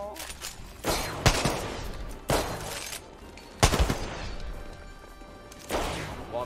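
Carbine gunfire in the shooter game Apex Legends: loud bursts of rapid shots come in several separate volleys with short gaps between them.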